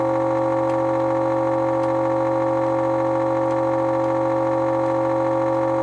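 Arcade engine sound effect from a 1976 Atari Night Driver board running in first gear, a steady droning tone with strong stacked harmonics, held level and unbroken from start to finish.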